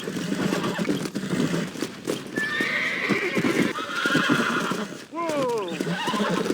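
Horse in the Red Dead Redemption video game whinnies and neighs with clip-clopping hooves throughout, loud and close, while someone speaks over it.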